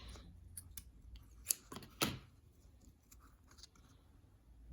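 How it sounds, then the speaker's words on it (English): Scissors trimming the end of a paper Valentine craft ornament, a couple of quiet crisp snips close by with faint handling rustle in a quiet room. "So I'll go ahead and trim off the end."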